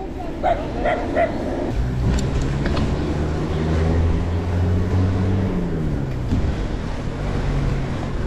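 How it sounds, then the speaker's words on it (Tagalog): Several dogs bark and yip along a trail, with sharp barks early on and a whining, whimpering tone, heard over engine noise and voices. "Daming aso dito ka sa kanan."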